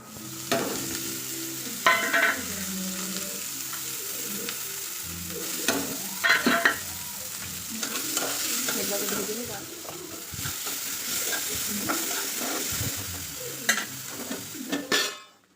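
Diced potato, capsicum and onion fry in a pan, with a steady sizzle under repeated scraping stirs and occasional clinks of utensil against metal, close and fairly loud.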